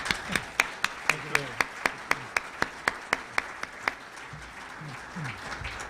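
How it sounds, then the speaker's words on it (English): Audience at a Forum Fronterizo energy presentation gives applause, one nearby clapper standing out with sharp, regular claps over softer crowd clapping that gradually fades. "they deserve a very good hand of applause"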